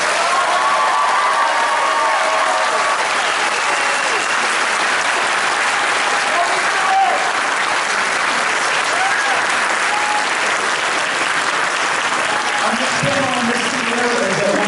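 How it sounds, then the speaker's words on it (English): A theatre audience bursts into sustained applause with some cheering for Summer, a dense, loud wash of clapping that fills the whole stretch, with a few voices rising through it. "Ladies and gentlemen, please give a big round of applause for Summer."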